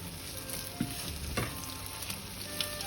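Eggs fry in hot oil in a pan for a tomato-and-egg stir-fry, giving a steady, close sizzle with faint scraping stir sounds, no voices.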